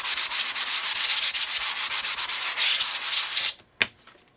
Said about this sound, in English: You're going to grab your sandpaper or sanding sponge and give it